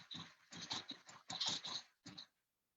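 A dog barks and whines behind a closed door, a burst of several close, loud, muffled yelps in quick uneven succession followed by one final bark.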